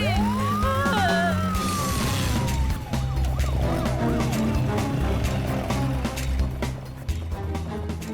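Wailing emergency siren rises and falls, loud and close, over a dense mix of music and crowd noise, with shouting voices briefly audible.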